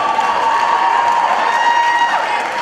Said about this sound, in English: Let's give her a big round of applause, ladies and gentlemen.